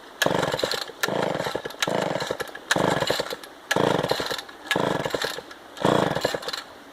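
A Homelite XL12 chainsaw engine on its first run revs hard in six steady, evenly spaced loud bursts with short drops between them, close by with no talking.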